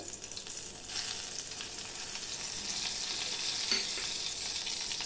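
Curry leaves sizzling in hot oil with mustard seeds during tempering for a Karnataka-style dal, a steady close frying hiss with faint crackles, no voices.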